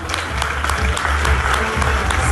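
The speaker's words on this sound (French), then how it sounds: "Attendez un applaudissement." Audience applause at a local talent show, a steady dense clapping from a crowd that continues evenly for a couple of seconds, moderately loud with no voices over it.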